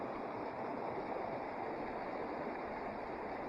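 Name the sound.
mountain creek flowing near a lake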